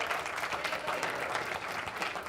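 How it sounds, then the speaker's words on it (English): Audience applause for a man named Louis at a talk, steady dense clapping from a crowd held at an even level throughout, with some voices mixed in. "Let's give him another round of applause"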